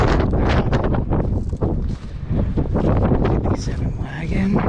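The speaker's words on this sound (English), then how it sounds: "Holy smokes, it's windy out here." Strong wind buffets outdoors in Big Timber, Montana, in continuous gusty roaring, loud and close against the microphone, with a voice faintly mixed in.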